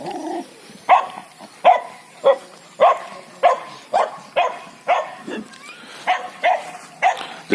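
A dog at an animal shelter barks repeatedly in a steady rhythm, about a dozen sharp, fairly close barks roughly half a second apart.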